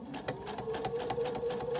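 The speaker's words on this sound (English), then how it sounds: "I'm going to start sewing." A sewing machine stitching binding onto a quilt, its needle running in a quick, steady mechanical rhythm, close and fairly quiet.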